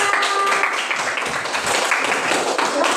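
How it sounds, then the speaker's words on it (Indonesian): Children in an Indonesian classroom applaud a student group that has just finished its work, a steady, dense patter of many small hands clapping continuously throughout, fairly close and even in loudness. "kita kasih tepuk tangan dulu anak-anak untuk kelompok A"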